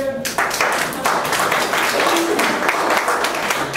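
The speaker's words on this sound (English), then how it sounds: "Can I get a round of applause for that?" An audience at a meeting claps and applauds in a loud, dense burst of hands that carries on steadily throughout, with a voice briefly speaking at the start.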